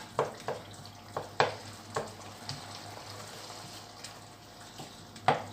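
Tomatoes cook in a hot pan with a soft, steady sizzle, broken by scattered sharp pops and clicks of utensils, fairly quiet and with no talk.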